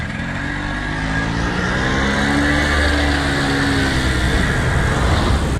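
Old Piaggio Ape three-wheelers driving past on an Italian street, their small engines buzzing loud and steady at close range with a rising and falling whine, and no talking.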